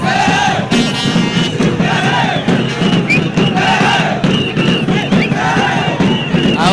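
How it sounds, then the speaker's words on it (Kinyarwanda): Rayon Sports football fans celebrate a 4-3 penalty shootout win with a dense crowd roar, repeated rhythmic chanting and yelling that swells in waves, loud and close throughout. "abo ni abafana ba Rayon Sports bishimye bitavugwa"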